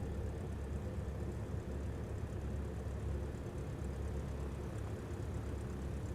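A Piper J3 Cub light airplane's engine drones steadily throughout a touch and go with a little crosswind, a low continuous hum at moderate distance with no speech.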